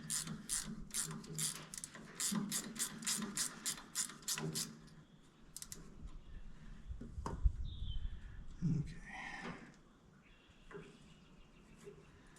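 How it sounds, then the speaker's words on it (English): A stubby ratchet wrench clicks in quick, evenly spaced bursts of pawl ticks, close and fairly quiet, followed by softer handling clunks and shuffling of tools. "Those stubby ratchet wrenches are kind of handy."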